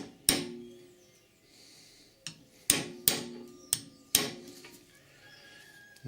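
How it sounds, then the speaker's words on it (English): Mallet striking a socket to drift a suspension bush out of a Triumph Vitesse rear suspension, six sharp metallic blows, close and loud, irregularly spaced with ringing decay between hits. "drift it out with a socket, rest it on the bush and give it a good malleting"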